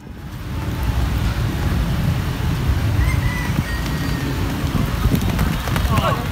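Steady rain falls at a lakeside during a fishing outing, a loud, dense hiss of drops on water and surroundings that continues throughout.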